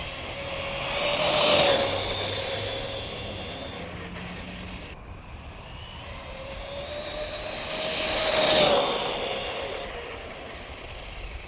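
A Losi 22S RC short course truck on 4S power makes two high-speed passes at full throttle, its electric motor whining up in pitch as it approaches and sweeping down as it speeds away, swelling loud and then fading.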